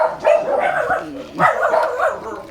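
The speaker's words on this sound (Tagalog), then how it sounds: "Ingay ng mga aso." Dogs barking repeatedly in short overlapping bursts, fairly close, with some yipping mixed in.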